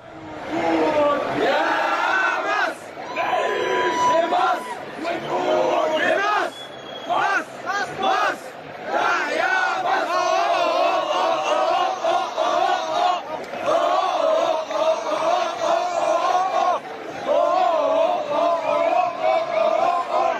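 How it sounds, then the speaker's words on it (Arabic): Al Ahly football supporters chant in unison on the streets of Russia, a dense, loud crowd with rhythmic voices that swell and break continuously. "فيديو من روسيا لجمهور الاهلي وهو طبعا في شوارع روسيا"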